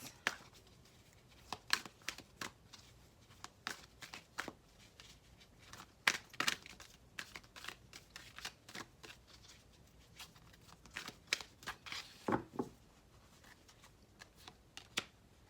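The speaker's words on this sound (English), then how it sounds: "let me pull an energy oracle card here for Taurus" An oracle card deck is shuffled and handled in scattered bursts of soft papery riffles and snaps, close but quiet, with gaps of near silence between them and no speech.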